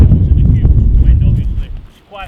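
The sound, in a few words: wind noise on a wireless mic, about 15 mph winds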